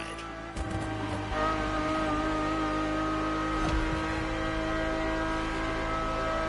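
A car engine heard from the cabin, a steady loud tonal drone with rich harmonics that swells as it revs, with a brief surge partway through.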